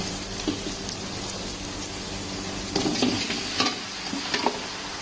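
Meat for kaldereta sa gata sizzles loudly in a hot pan, a dense crackling hiss with bursts of stirring and scraping, close and without talk.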